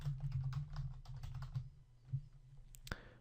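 Steady typing on a computer keyboard while entering form text in HTML code: a close, quiet run of rapid key clicks over a low hum, ending in a couple of sharper taps.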